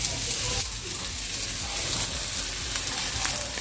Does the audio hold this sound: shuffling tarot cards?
no